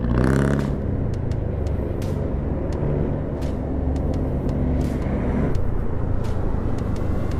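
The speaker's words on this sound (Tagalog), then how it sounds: "Kaso maraming sasakyan" Heavy road traffic with many vehicles passes close by. Engines rumble continuously and a loud burst opens the stretch, followed by brief sharp hiss and click sounds over the steady roar, with no talk.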